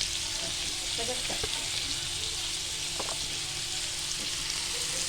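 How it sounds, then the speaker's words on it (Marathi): Onion and green chili fry with cumin in hot oil, a steady bright sizzle close by, with a few soft clicks and scrapes of stirring. "त्यात आपण जिरं आता टाकलेलं आहे मग टाकूया आपण त्यात कांदा हिरवी मिरची"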